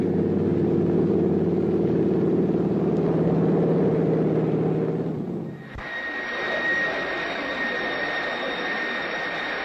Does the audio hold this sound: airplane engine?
yes